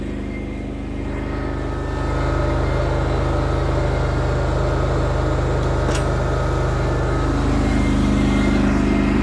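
A Cub Cadet GT2544 garden tractor with automatic drive runs close by, its engine drone steady and loud, rising slightly as the blade drops, with no talking.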